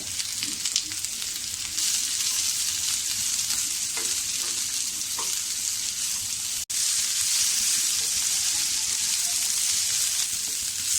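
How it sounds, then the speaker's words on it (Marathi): Onion sautés in hot oil with ginger and garlic for a village-style chicken rassa, a loud, close, continuous sizzle with a few stirring scrapes and a brief break midway, with no talking. "कांदा सुद्धा आपल्याला हा छान असा गुलाबी रंग येईपर्यंत परतून घ्यायचा आहे।"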